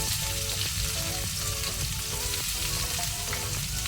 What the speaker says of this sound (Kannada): ಲೋ ಫ್ಲೇಮಲ್ಲಿ ಸ್ವಲ್ಪ ಫ್ರೈ ಮಾಡುವ